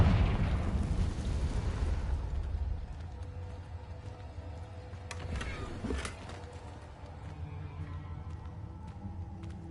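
The Confringo fire spell in Hogwarts Legacy goes off as a single loud blast that fades into a rumbling tail, followed by a few sharper crackles and pops a few seconds later.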